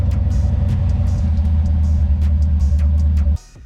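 Ford Foxbody Mustang engine idling with a steady, loud, deep rumble close by, cutting off abruptly near the end.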